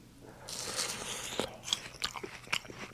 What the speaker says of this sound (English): I'm distinctly chewing on the painful side too.